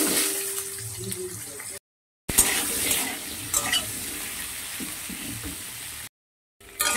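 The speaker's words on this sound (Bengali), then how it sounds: "আলুগুলোকে একটু লাল লাল করে ভেজে নেব" Potato pieces frying in hot oil in a pan with a five-spice tempering: a steady, bright sizzle close by, cut by two brief silent gaps.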